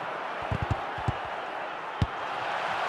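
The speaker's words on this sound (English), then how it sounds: "just listen to this crowd" Stadium crowd noise from the FC Mobile football video game, a steady broad roar with a few dull thumps and one sharper knock standing out briefly.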